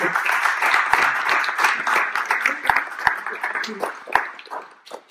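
Audience applause from residents and guests at a retirement home art event, steady dense clapping for several seconds with voices mixed in, tapering off near the end.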